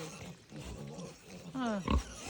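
Pig grunting and squealing among a group of piglets, a rough grunt followed by a louder harmonic squeal near the end over a noisy farmyard background.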